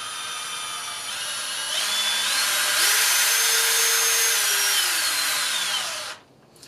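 A Hitachi (HiKOKI) cordless drill whirs at high pitch, its motor whine rising as the trigger is pressed deeper, holding steady, then winding down and stopping.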